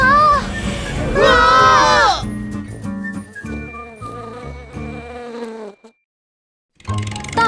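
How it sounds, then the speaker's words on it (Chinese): Cartoon-style buzzing of angry bees in a children's animated vehicle song, set among lively voices and music, loud and close, ending in a short pause before the sound resumes. "不会是蜜蜂又来了吧？"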